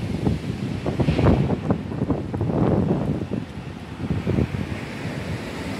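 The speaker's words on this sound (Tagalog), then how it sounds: "Lakas ng hangin." Strong wind buffets the microphone in heavy, gusting low rumbles that rise and fall throughout, with no talking.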